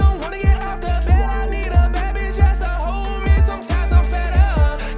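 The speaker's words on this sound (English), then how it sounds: "So it's a singy type track with some rapping." A hip-hop track with a punchy, regular beat, sung melodic vocals and some rapping over a steady groove.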